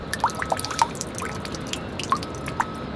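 Lemon juice dripping onto cooked chicken, several small, distinct drips and wet squishes scattered irregularly over a faint background, close and fairly quiet.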